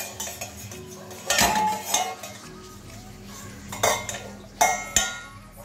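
A spoon scrapes and clinks around a bowl while warm melted ghee is spread over it to grease it for a biscuit cake, with several sharp metallic knocks and swirling strokes, close and alone.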